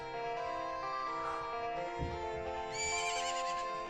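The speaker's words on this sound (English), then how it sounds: "Isn't that your horse? Oh my goodness, ladies and gentlemen. Epona's okay!" Epona, the horse in the video game Majora's Mask 3D, lets out a long whinny, a wavering high neigh that carries over the game's background music, close and clear.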